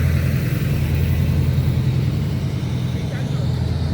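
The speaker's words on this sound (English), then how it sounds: "this truck go by." A truck passes on a street during an outdoor walk, a steady low engine rumble that holds throughout under a continuous speaking voice.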